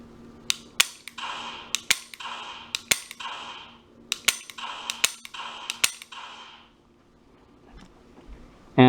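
A handgun dry-fired at an iTarget Pro laser training target, about a dozen crisp, sharp clicks in quick uneven pairs and singles, each followed by a brief faint electronic chirp, close and clear over near silence.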